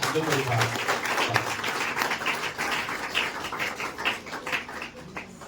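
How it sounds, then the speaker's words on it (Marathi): Sustained applause fills a student award ceremony as the crowd claps for a teacher, a dense patter of many hands that continues steadily and eases off slightly toward the end. "जोरदार सरांसाठी सुद्धा टाळ्या वाजवा"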